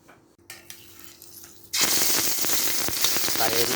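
Curry paste and ingredients hit a hot pan of oil for stir-frying, bursting into a loud, steady crackling sizzle after a quieter moment of low background noise.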